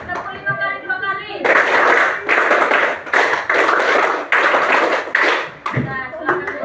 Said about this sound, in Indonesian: tepuk 5 kali 2 kali.